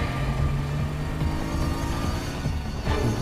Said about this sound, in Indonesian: adegan kejar-kejaran menggunakan mobil pun terjadi